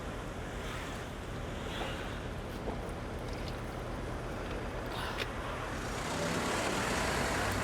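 A hot, 40-degree traffic jam on the Adriatic Highway: a continuous, dense rumble of engines and road noise with wind buffeting the microphone, swelling slightly near the end.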